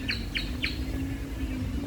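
A small bird sings near Düden Waterfall in Antalya, Turkey, giving three quick bright chirps in a row over a steady low hum of rushing water.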